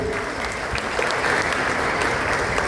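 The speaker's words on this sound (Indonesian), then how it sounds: "Tepuk tangan dulu ya." Steady, dense audience applause at a prize-giving ceremony for competition winners, loud and continuous from start to finish with no voices standing out.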